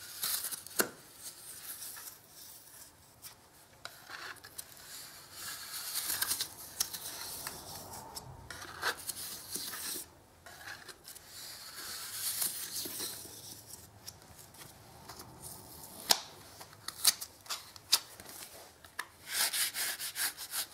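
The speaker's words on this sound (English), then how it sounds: "Because the stringing runs under the plaster, I'm just going to cut down this way." A blade cuts and scrapes through plaster along a staircase stringer, making a steady series of gritty rubbing and scraping strokes with occasional sharper clicks, close and moderately quiet, with no speech.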